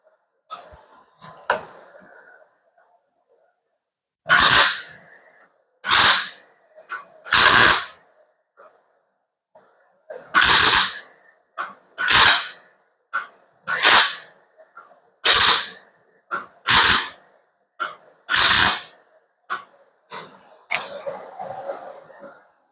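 Sharp metallic hammer strikes ring out in irregular bursts on the roof of a 1935 Ford during a roof chop, about a dozen blows with pauses between, close by, with faint shuffling in the gaps.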